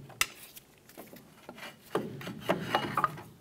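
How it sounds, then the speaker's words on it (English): A small pry bar works a front brake caliper loose on a 1994-2004 Chevy S10, giving scattered scraping, rubbing and metallic knocks of varying loudness that grow busier toward the end. "I'm going to use a small pry bar to go ahead and pry the caliper loose"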